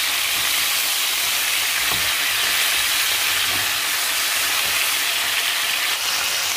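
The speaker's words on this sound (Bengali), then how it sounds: "মুরগির এক পাশ ভাজা হয়ে গিয়েছে" Chicken pieces fry in a pan with a loud, steady sizzling hiss that holds continuously and close up, with no voices.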